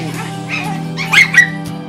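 A dog lets out two quick, loud yipping barks close by over a steady low hum.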